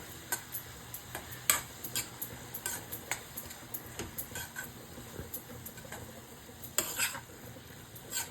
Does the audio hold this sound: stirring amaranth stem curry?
yes